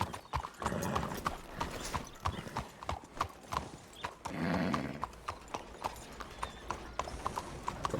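Hooves clip-clop in a steady trotting rhythm in a video game, with a brief horse whinny in the middle and some faint background sound.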